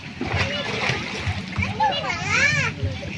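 A child splashes into a private pool with a brief, watery splash, while children talk nearby.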